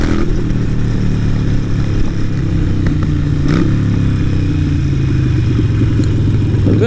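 Harley-Davidson 883 Iron bobber with a Vance & Hines exhaust, its engine running steadily with a deep, loud rumble and slight revving, close by and continuous throughout.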